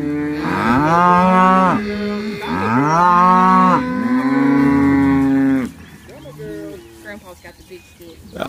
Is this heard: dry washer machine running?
no